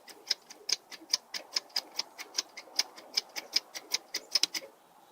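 Creaking from a 2x4 wood member in a welded joint twist test: a fairly even series of sharp, faint clicks and ticks, roughly four or five per second, with no talk.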